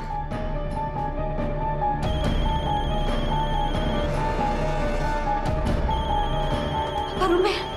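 A telephone rings repeatedly during a tense family scene in an Indian crime drama, its steady electronic ring running throughout over a background music bed, with a brief rise near the end.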